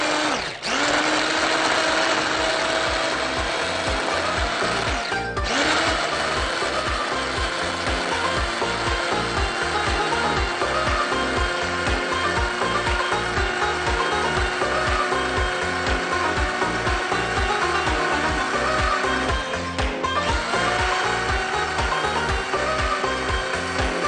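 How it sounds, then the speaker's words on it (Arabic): Electric blender whirring steadily and loudly as it blends a pepper marinade for pickled eggplant, a continuous motor drone with brief dips in pitch, no talking over it. "خلاص حطينا كل مكونات التتبيله، يلا بينا نخلطها"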